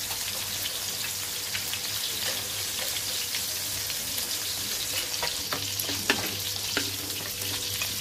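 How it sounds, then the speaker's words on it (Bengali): Shrimp and koi fish frying in oil in separate pans on two stoves, a dense steady sizzle with scattered spattering pops, close and even throughout, no voices. "ওই চুলায় কই মাছটা দিলাম, এই চুলায় চিংড়ি মাছটা ভেজে নিব"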